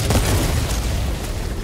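Cluster bomb blasts in the video game Helldivers, a dense, continuous rumbling barrage of close, loud overlapping explosions with no pauses between them.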